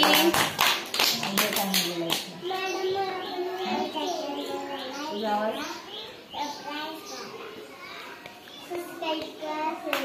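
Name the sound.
children clapping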